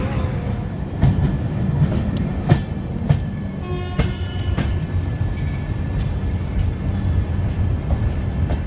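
The 13212 Intercity Express, running from Danapur to Jogbani in Bihar, rolls along the rails with a loud, continuous rumble and irregular clanks and clicks of the wheels over the track joints.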